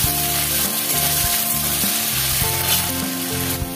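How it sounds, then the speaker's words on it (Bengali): Potatoes frying in hot oil in a pan, giving a continuous crackling sizzle with a faint tonal hum underneath, close and steady throughout. "এবার আলুগুলো একটুখানি ভাজবো"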